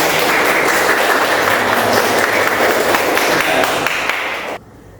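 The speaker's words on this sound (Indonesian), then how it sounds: "Tepuk tangan." A class claps hands together in a steady, dense burst of applause that fills the room and then stops abruptly.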